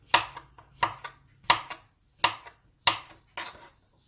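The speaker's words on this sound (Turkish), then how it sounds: "Rastgele böyle doğruyorum." A kitchen knife slices mushrooms on a cutting board in six separate crisp chops at a slow, even pace, each chop a sharp knock against the board, near and with no talk.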